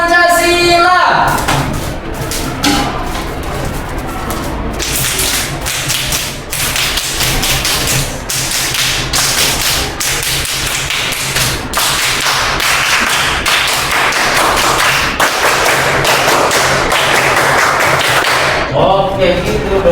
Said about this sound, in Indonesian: Biar semangat, tepuk Pancasila.